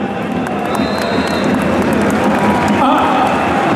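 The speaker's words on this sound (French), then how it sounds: "Merci de les applaudir." A stadium crowd at a Standard de Liège home match applauds steadily, a dense, continuous wash of clapping and crowd noise with a brief rise in cheering near the end.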